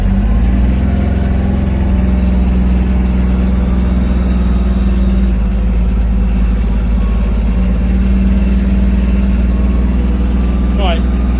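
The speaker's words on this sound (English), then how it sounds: "Apologies for the loud noise. It is quite noisy in this cab." Loud, steady engine drone from inside the cab of a JCB Workmax utility vehicle, a deep rumbling hum with rattling noise that never lets up.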